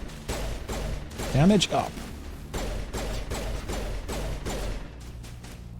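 Pistol fire in Mass Effect against Geth troopers: a series of sharp, evenly spaced shots over about five seconds, with a brief spoken line and electronic effects mixed in mid-sequence.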